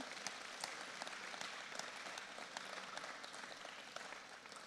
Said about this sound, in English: Students, another round of applause for all the adults that continue to show and pave the path